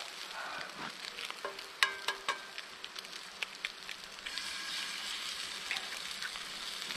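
Eggs sizzle and crackle steadily in a cast-iron pan over a camp stove inside a hot tent in the woods, with sharp pops and spits scattered through the hiss.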